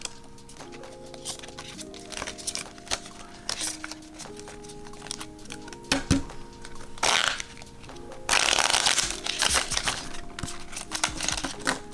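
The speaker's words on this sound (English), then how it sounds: "I'm dropping the cards." Slippery playing cards handled, shuffled and dropped during a savings card game, giving a busy run of crisp riffles and flutters, with a louder burst of cards spilling near the end.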